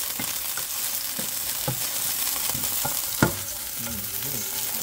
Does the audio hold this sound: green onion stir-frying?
yes